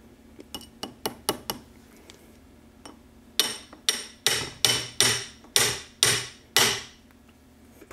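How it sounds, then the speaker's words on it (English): A dowel pin is tapped into a transmission shift fork during a Tremec TKO five-speed rebuild. About a dozen sharp metallic taps ring out close and loud, first in a quick cluster, then in a steadier series, with no voices. "we're going to put the dowel pin now on the shift fork over here"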